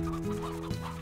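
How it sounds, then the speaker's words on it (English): Hens and roosters cluck together in a pen in the video game Slime Rancher, a brief, steady flock clucking over a low ambient hum, close and moderately loud. "there are so many hen hens and roosters in here"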